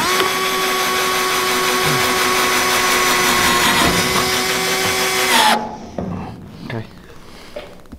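A power drill whines loudly and steadily while screwing a new roof skin onto a 1969 Ford Capri, then cuts off abruptly, leaving a few clicks and shop sounds.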